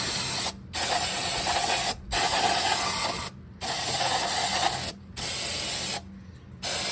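Carb cleaner hisses out of an aerosol can onto the carburetor of a 1963 Thunderbird in several sustained bursts with short gaps between them, close and steady with no talking.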